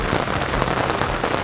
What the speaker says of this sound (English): They are thunderous clouds, and there's a lot of rain at the moment.